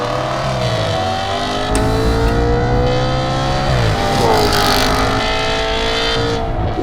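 Audi B8 RS5 with its V8 engine revs hard, loud and close, climbing in pitch, dropping, then climbing again in a sustained snarling run with no talking.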